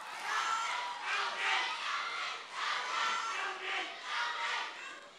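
A large studio audience at a televised singing-competition finale cheers and claps for the band in rolling, swelling waves, heard somewhat distant and steady throughout.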